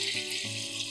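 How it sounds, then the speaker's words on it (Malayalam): Water poured into a pot of washed lentils, a brief close splashing pour. "അഞ്ച് കപ്പ് വെള്ളം ഒഴിച്ചു കൊടുക്കാം."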